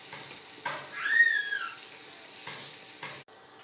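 Cabbage fries in a pan for a recipe with egg, making a soft, close sizzle with a few stirring scrapes and a brief whistling hiss before it cuts off.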